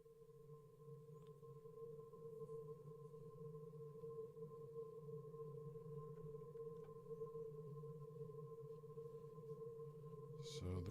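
Roland JP-8000 synthesizer playing a noise oscillator patch with effects, a sustained swirly, droning tone with steady hum and faint noise, fairly quiet and unchanging, with a brief noisy burst at the end.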